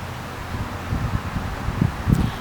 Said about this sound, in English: It's actually quite windy.